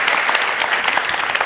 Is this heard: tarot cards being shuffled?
no